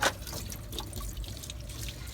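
Tap water runs and splashes steadily as paint is rinsed out of a sponge at a sink, close and continuous with no talk.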